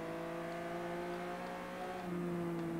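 Six-cylinder car engine in Forza Horizon 3 hums with a steady, tonal drone that shifts pitch slightly as it revs, loud and close throughout.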